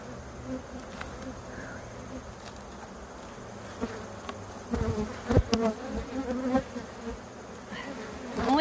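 Bees swarm and buzz around an opened beehive as it is being reassembled, a steady dense hum with a few louder individual bees passing close by near the end.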